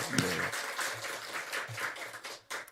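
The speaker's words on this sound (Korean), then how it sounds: "앉아있는 상태에서 박수 한번 해주세요" Church congregation at an all-generation Sunday service applauding from their seats for two high-school students, a short, uneven patter of clapping mixed with scattered voices and low murmur.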